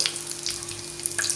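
Asafoetida sizzles in hot oil for a Punjabi-style dal tadka over a low flame, a steady close crackle with brief brighter spits and no voices.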